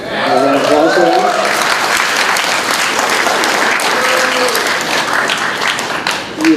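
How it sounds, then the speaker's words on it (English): Loud, dense audience applause at a bonus-features event for the Angry Video Game Nerd, steady clapping throughout with some voices and cheers mixed in. "Round of applause for that."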